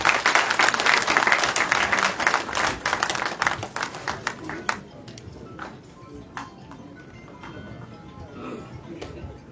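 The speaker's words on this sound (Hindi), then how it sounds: "ताली कम से कम ताली तो बजा सकते हैं भाई" Audience applause in a hall at a BJP event marking Emergency day, a dense burst of clapping that thins over several seconds into scattered individual claps before fading to near quiet.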